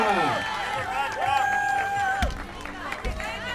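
Spectators at an ice climbing competition final in Domžale cheer and whistle for a climber. The cheering is steady but moderate and sits under a commentator speaking loudly.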